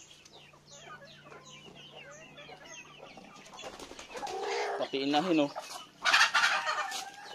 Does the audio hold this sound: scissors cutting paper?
no